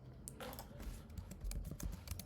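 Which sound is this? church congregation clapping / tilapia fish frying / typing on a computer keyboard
typing on a computer keyboard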